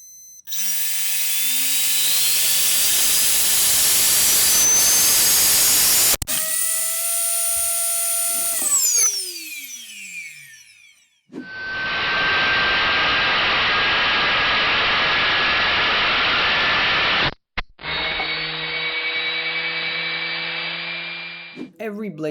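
A 3D-printed PLA turbine spins up from standstill toward full throttle, a loud rising high-pitched whine with sweeping tones, broken by abrupt cutoffs and restarts as the blades fail.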